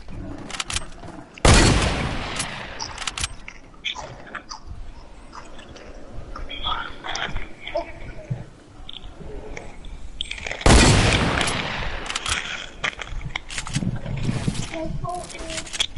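Gunfire in the Black Ops 4 beta on PS4: two sharp, loud bursts of shots stand out over game noise, with people talking throughout.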